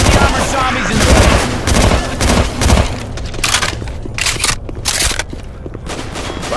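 Rapid, loud gunfire in the video game Left 4 Dead 2 as zombies are shot, dense bursts of overlapping shots that thin into separate sharp cracks and booms spaced apart.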